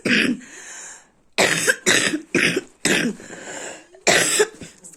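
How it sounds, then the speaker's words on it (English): A person coughs repeatedly in harsh, close bursts, about five or six in a row with short pauses between them. "I have cough"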